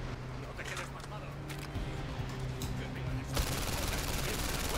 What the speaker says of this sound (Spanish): ¡Madre mía, qué tiroteo!